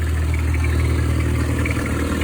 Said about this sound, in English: Been plowing with the old Cub Lo Boy 154.